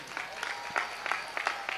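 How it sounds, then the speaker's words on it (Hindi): Scattered audience applause at a spiritual gathering, moderately loud and a little uneven, with claps blurring into a steady patter for a moment before the talk resumes. "आपकी तालियों में शोर कम था,"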